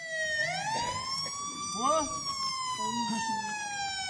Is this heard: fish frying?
no